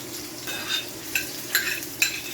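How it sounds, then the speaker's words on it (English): Onion frying in a pot over a medium flame for a Jamaican saltfish cook up, a steady low sizzle with a few brief stirring scrapes, close and moderately quiet. "So onion is in, and we're gonna just let that fry to release some flavors."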